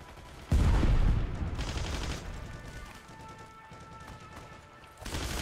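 Gunfire in the World War II online shooter Heroes & Generals: a loud burst of shots opens the moment, followed by several seconds of quieter, scattered firing, then a fresh volley near the end.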